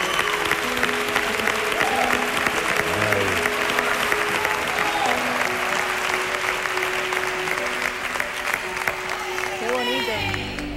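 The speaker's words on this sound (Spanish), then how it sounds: "Un fortísimo aplauso para todos ellos." A television talent show grand final audience applauds loudly and steadily for several seconds, a dense wash of clapping with faint cheers and a few voices beneath.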